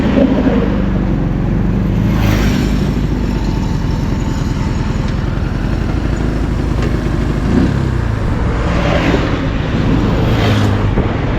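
Steady roadside traffic of many vehicles passing on a hot, dry day, engines rumbling continuously with occasional louder swells as cars go by nearby, no talk.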